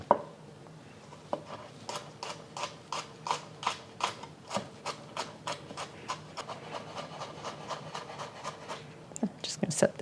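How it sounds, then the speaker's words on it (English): Rapid knife mincing of two garlic cloves on a cutting board, a steady train of close, crisp chops with short pauses, faint kitchen background between strokes. "we've got 2 cloves of garlic that I'm just going to mince"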